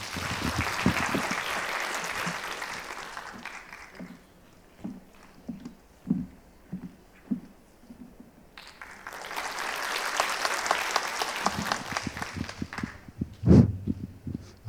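Applause at a Korean apartment residents' reconstruction briefing, two bursts of crowd clapping separated by a quieter gap of scattered individual claps and thumps, the second burst fading into a few louder knocks near the end.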